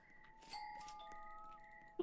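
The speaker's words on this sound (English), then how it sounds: "The doorbell?" A doorbell chime rings inside the Roblox video game, a clear two-tone ding-dong ringing out with held tonal notes against quiet game background, with no talking over it.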